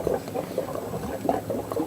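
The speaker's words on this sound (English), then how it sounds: "Can't hear you when the water's running." Tap water running steadily in a kitchen, a broad continuous rush with bubbling and gurgling textures that swell and ease slightly, fairly close.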